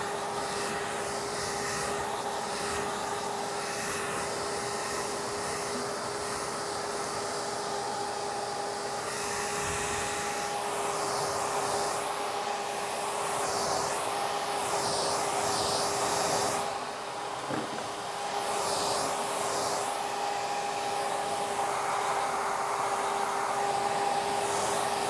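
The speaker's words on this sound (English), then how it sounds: "you'll get your hair blown out straight as well" A hair dryer blows hair straight with a round brush, a loud constant whirring roar with a steady tonal whine that runs unbroken throughout and dips briefly midway.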